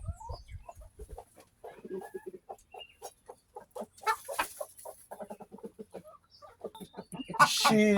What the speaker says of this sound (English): this is one of the older Buff Orpingtons